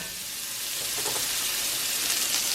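Flour being stirred into hot fat in a cast iron skillet gives a soft, steady sizzle with faint scraping, close and fairly quiet, with no voices.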